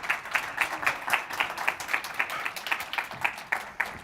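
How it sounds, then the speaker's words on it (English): Convention crowd applause welcoming actor Kim Simmons, a modest, rhythmic run of claps in an evenly pulsing pattern, fairly quiet and steady throughout with no talk over it. "I would like to give a round of applause and a warm welcome for Kim D.M."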